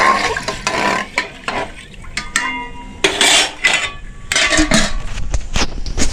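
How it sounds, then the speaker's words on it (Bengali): Cooking at home, with a spoon clattering and scraping against a pot while rice is stirred, producing irregular close metallic clinks and knocks with brief pauses and no talking. "দেখো রান্না চলছে এখন"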